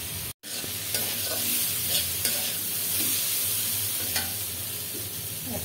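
Grated tomato sautés in a pan, a dense close sizzle with repeated stirring scrapes throughout, briefly cut by a momentary dropout near the start.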